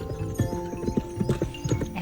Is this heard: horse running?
yes